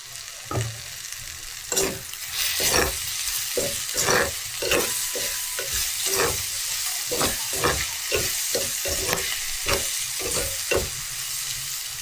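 Clams tipped into a hot pan for a Jaffna-style clam curry, frying with a loud, steady sizzle while a spoon stirs and scrapes in repeated close strokes.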